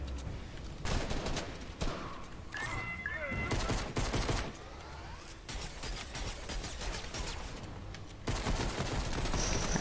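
Rapid minigun fire and other gunfire rattle through a video game boss fight, continuous and dense, with brief breaks and people talking faintly underneath.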